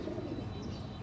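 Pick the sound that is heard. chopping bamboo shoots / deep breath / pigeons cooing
pigeons cooing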